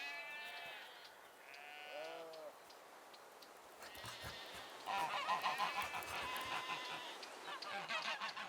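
Geese honk in a noisy, rapid chorus that grows louder toward the end, mixed with a few sheep bleats earlier on.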